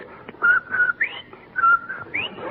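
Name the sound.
imitated whistling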